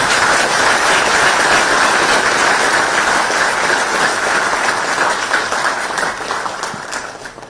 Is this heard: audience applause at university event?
yes